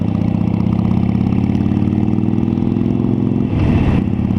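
A motorcycle engine runs steadily close by on an early-season ride, a mid-pitched, continuous rumble with a slight swell in the last second; no voices.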